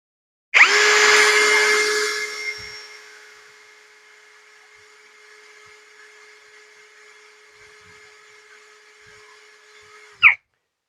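A grey MLHY M-60 10mm cordless impact drill runs at speed 1, starting with a sharp click into a steady high whine that settles and holds for about ten seconds before stopping with another click.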